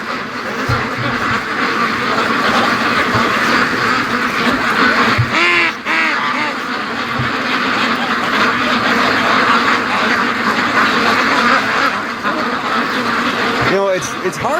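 Free-range ducks quack continuously in a busy, noisy chorus in a yard, with people talking intermittently over the flock.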